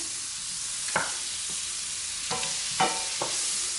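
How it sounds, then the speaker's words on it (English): Four tablespoons of butter melting in a hot frying pan, stirred with a few distinct scraping strokes over a steady soft sizzle, close and fairly quiet. "into the frying pan, I'm going to put 4 tablespoons of butter, and I'm going to move it around"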